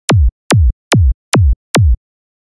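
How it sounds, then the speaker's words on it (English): Synthesized kick drum from a sine wave sweeping down from a high pitch to its low fundamental: five loud, punchy thumps with a zapping downward chirp, evenly spaced in a steady beat, then silence. "So now let's start pitching this sine wave."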